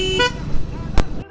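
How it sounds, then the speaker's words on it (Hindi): A vehicle horn just repaired gets tested with a short toot, followed by a sharp louder blast about a second later, heard outdoors amid light street background. "तो भैया ने हॉर्न जो है हॉर्न ठीक करके दे दिया, हॉर्न चेक करो"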